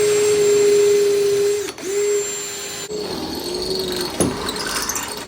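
A power drill whines steadily as it bores a hole into a wooden box, running loud and close with a couple of brief pauses and a shift in pitch as the bit works through the wood.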